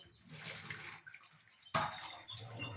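Cooking water drains off boiled tapioca (kappa), a close, rushing pour that sloshes unevenly and surges in a sudden louder splash near the end.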